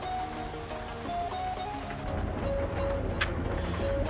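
Rain in the American Truck Simulator video game falls as a steady, dense patter over the low rumble of a truck engine, continuous and fairly loud throughout.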